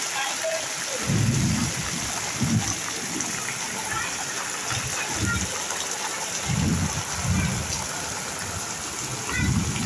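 Heavy rain pours outdoors in a constant, loud hiss, with deep rumbling gusts swelling now and then and muffled voices at times.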